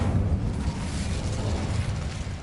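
The Incendio fire spell is cast in Hogwarts Legacy on PS5, a loud, dense whooshing roar of flame that holds steady for a couple of seconds.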